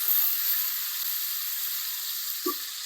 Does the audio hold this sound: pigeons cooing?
no